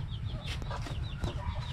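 Broiler chicks cluck in short, scattered bursts inside a white chicken coop over a steady low background hum, fairly close and moderately loud.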